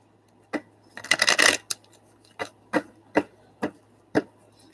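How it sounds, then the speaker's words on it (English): Tarot cards shuffled close up: a quick burst of riffling, then a series of separate soft taps and snaps as the deck is handled, with no talking. "We're going to shuffle the cards a little bit."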